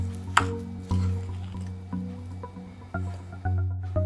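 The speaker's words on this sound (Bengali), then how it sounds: "প্রায় 10-12 মিনিট আমি এটা মিশ্রণটাকে মাখালাম ভালোভাবে।" Semolina and egg batter with sugar being mixed and kneaded by hand in a bowl, giving close, soft wet squishing strokes in a slow repeating rhythm, with an occasional light clink and no talking.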